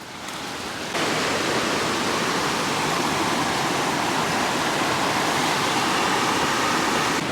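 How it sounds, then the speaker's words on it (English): A flooded creek in Wongi National Park rushes and churns steadily nearby, a dense continuous roar like fast water pouring over rocks, loud and unbroken after a brief quieter start. "the water's just absolutely pumping down"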